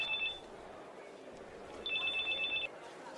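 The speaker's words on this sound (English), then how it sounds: "Is that a cell phone out there?" A cell phone rings out from an audience, two bursts of a steady electronic tone separated by a pause, heard at a moderate distance over a background murmur of the room.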